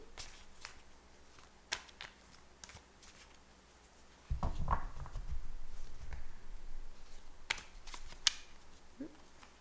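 A deck of tarot cards is shuffled in soft bursts of riffling and tapping, a longer rustling pass in the middle and a few sharp card snaps toward the end, close up and fairly quiet.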